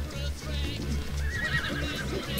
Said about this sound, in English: Keep hitting that horse.